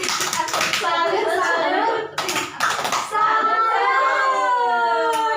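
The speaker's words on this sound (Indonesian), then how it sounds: "Ayo, beri dia tepuk salut." A group gives a patterned salute clap, several bursts of rhythmic hand clapping in quick sequence, followed by people chanting and talking together in a lively session.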